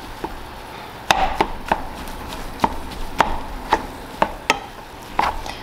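A meat chopper tool pressed and twisted through hamburger meat in a pot for chili, giving a run of sharp, separate chopping knocks at an uneven, steady pace, close and clear, with no talk.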